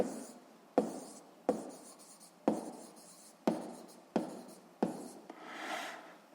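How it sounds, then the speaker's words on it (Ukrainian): A pen writes physics calculations on paper in quick strokes, each starting with a sharp tap and trailing into a soft scratch, about seven in a row, close and quiet with no speech. "Записуємо обчислення."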